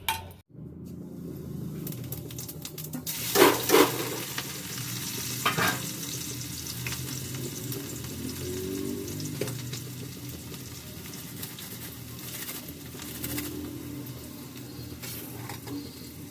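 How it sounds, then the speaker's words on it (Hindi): Ridge gourd being tempered sizzles and fries in a hot pan, with a steady crackle, a couple of louder hisses near the start, and occasional utensil clinks. "फिर देखिए तरोई की सब्ज़ी छौंक दी है।"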